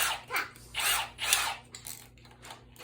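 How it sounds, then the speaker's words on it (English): A drill chuck is twisted tight, a run of close ratcheting clicks and mechanical grinding bursts in a quick uneven rhythm that fades toward the end. "Tighten down the chuck,"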